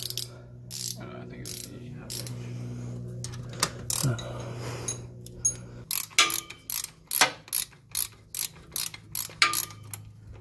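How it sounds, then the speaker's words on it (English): A ratchet wrench removes transmission mounting bolts from a Muncie M20/21/22 gearbox behind a Pontiac V8, clicking in short, close, rhythmic bursts with pauses, speeding into a regular run of strokes near the end. "So now we're going to take the mounting bolts off."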